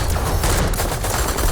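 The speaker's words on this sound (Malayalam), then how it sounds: "ഫുള്ള് വെടിവെപ്പ് തന്നെ." Gunfire from the Kattalan movie trailer: a loud, dense volley of rapid shots running continuously through the short burst.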